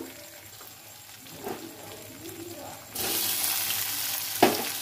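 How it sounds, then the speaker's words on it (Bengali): Tomatoes with salt fry in a pan, giving a soft sizzle that jumps to a louder, hissing fry partway through, with a brief clatter near the end. "টমেটোগুলোকে কিছুক্ষণ ভেজে নেব।"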